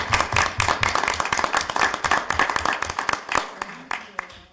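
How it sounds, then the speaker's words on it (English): A crowd applauds at a board of education meeting with a scattered burst of clapping that thins out toward the end, with some voices mixed in. "I would ask that you join me in a round of applause for Emma Moore."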